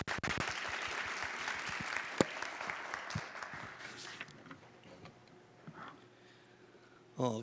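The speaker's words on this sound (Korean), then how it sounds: "박수로 환영해 주십시오." An audience at a Pusan National University entrance ceremony applauds as a speaker is welcomed to the podium, a dense hall-filling clatter of clapping that fades out after about four seconds, leaving a quiet room.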